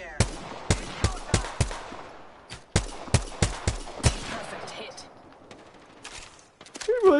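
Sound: gunshots in a video game

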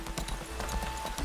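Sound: horse hooves clip-clopping in video game Lost Ark

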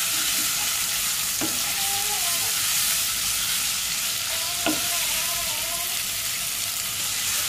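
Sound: stirring ginger garlic paste frying in a pan

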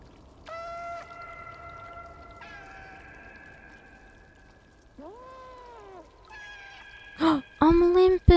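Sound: cat meowing in the video game Stray

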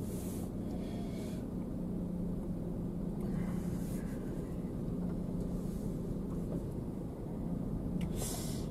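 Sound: car driving out of temple parking lot

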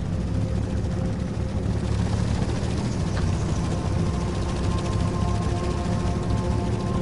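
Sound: helicopter chasing player in video game S.T.A.L.K.E.R. Lost Alpha

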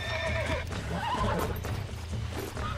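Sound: horse neighing in a video game

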